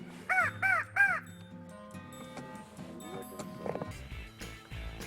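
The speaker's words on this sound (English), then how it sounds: "Superstitious people that wouldn't want to eat a crow." Three loud, close caws from a crow come in quick succession at the start, followed by quieter mixed background sounds with a faint musical bed.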